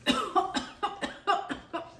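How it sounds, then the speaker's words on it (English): A person coughs repeatedly while dicing a habanero pepper for a spicy Guyanese pepper sauce, about eight short harsh coughs in quick bursts, close and fairly quiet with no talking. "It's already making me cough."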